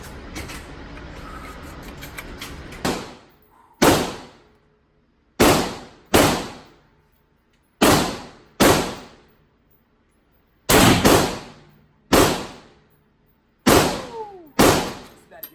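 A big-bore rifle with a 26-inch octagonal barrel fires repeatedly outdoors, about nine loud, sharp reports at irregular intervals, each with a short decaying echo, after a few seconds of low background noise.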